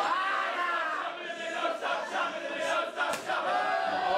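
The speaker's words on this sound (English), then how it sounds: "They're cheering for Ace to just not stop chopping him." A live pro wrestling crowd cheers and chants in unison as a wrestler lands repeated chops on his opponent, a loud continuous roar of many voices rising and falling.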